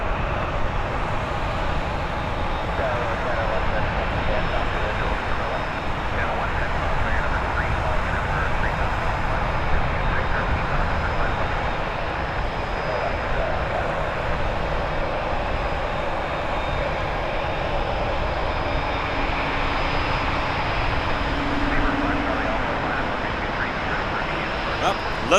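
British Airways Boeing 787-10 Dreamliner taxiing, producing a steady, moderately loud engine rumble and whine throughout, with voices talking over it.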